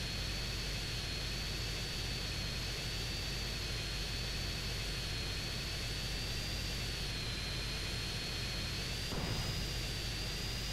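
A steady, continuous airplane engine drone in GTA San Andreas, a constant whine and broad roar holding level throughout, with a slight bump near the end and no talking.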